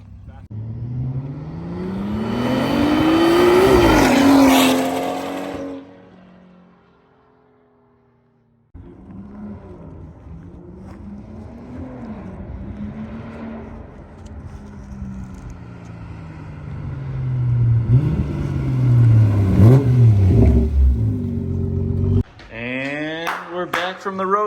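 A BMW 340i fitted with an upgraded turbo rushes past in a loud flyby, engine note rising sharply as it approaches and fading away, followed by a second rising pass with revving later on.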